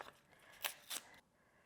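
Scissors snip through a paper cup wrapped around a homemade tallow or butter candle, two or three crisp close cuts in quick succession, fairly quiet with a soft rustle between them.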